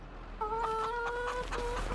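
Chickens in the Farming Simulator 25 video game cluck in short, tonal, repeated calls, close and clear over a faint steady background.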